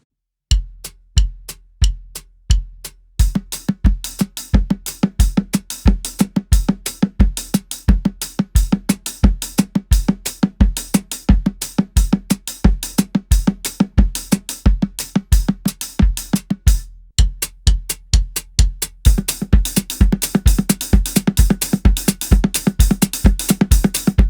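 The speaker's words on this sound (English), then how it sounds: "With my feet playing alternating 8th notes between the kick and the hi-hat" A drum kit plays a steady, driving groove: feet alternate eighth notes between kick and hi-hat beneath busy right-left-left sixteenth-note hand patterns, loud and close, with a brief pause midway.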